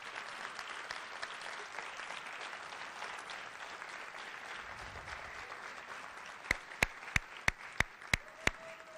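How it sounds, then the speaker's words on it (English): Applause fills a room at a youth recognition awards ceremony, a steady crowd clapping throughout, with several sharp, evenly spaced clicks near the end. "How about one more round of applause for a truly inspirational group of students?"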